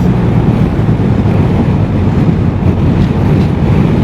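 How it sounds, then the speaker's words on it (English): Strong coastal wind in Spain roars and buffets a microphone in a constant low rumble, with a faint wash like surf beneath, no voices. "Oh, it's windy. Really windy."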